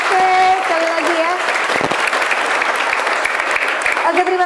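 Audience at an Islamic boarding school (pondok pesantren) religious program applauding, loud sustained clapping from a crowd, with a voice talking and a musical tone over it at the start and near the end.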